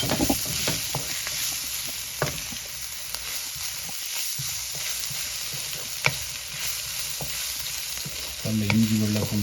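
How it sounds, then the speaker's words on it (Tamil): Ginger and garlic fry with onions in a pan, a steady close sizzle with frequent scraping and tapping stirs throughout, and a brief tonal clatter near the end. "இப்போ நாங்கள் இஞ்சியும் வெள்ளைப்பூண்டும் பிடிச்சி வச்சதை அதில் போடுறோம்."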